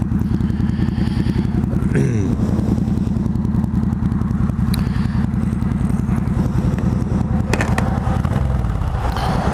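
A motorcycle climbs a steep incline with its engine droning loud and steady, heard up close from the rider with faint rattles throughout.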